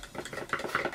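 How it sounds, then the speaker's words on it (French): Homemade slime being stirred by hand in a bowl, a soft, quick run of wet, sticky squelches and faint clinks at close range, with no one talking. "Ça me saoule de remuer"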